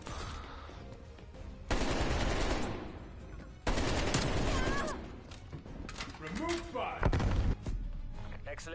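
Call of Duty gunfire: bursts of automatic weapon fire and loud shots in sustained volleys, broken by short gaps and some impact and mechanical clatter, under game chatter.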